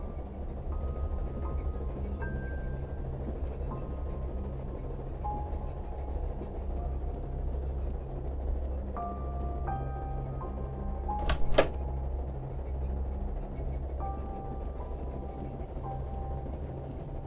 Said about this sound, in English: The train's picking up speed.